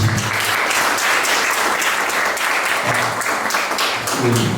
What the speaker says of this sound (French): S'il vous plaît, applaudissez encore pour lui.